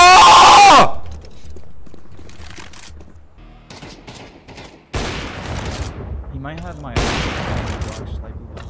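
Desert Eagle pistol shots ring out in Counter-Strike: a loud blast opens, then further sharp shots with ringing tails follow at irregular intervals, with faint voices in the background between them.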